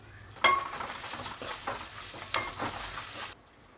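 Curry leaves, green chillies and turmeric frying on a low flame for lemon pulihora, a soft crackling sizzle with a sharp initial pop and a few stirring scrapes before it stops abruptly, no talking.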